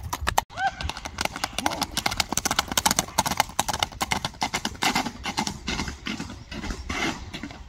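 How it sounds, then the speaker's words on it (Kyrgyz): A blue horse named Okean gallops on asphalt, a fast, steady clip-clop of hooves rattling close by through the whole stretch, with a brief whinny near the start and people talking in the background. "Ушул асфальттан бир чабып көрсөтөлү."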